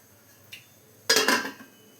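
A lid set onto a pot of drumstick and prawn curry on the stove: a faint tap, then a louder metallic clatter as it settles, up close in a quiet kitchen.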